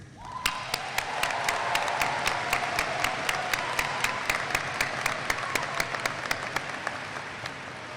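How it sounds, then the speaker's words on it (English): A graduation crowd in a high school ceremony breaks into sustained applause for the parents, a dense wash of many hands clapping steadily for several seconds with a few sharper individual claps standing out near the front. "how about a rousing round of applause for your parents?"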